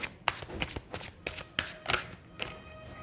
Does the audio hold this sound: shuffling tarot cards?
yes